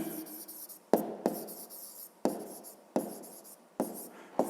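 A pen writes numbers on paper while a fifth-grade maths exercise is being worked, giving close, soft scratching strokes broken by several sharp taps as the pen touches down, with no talk.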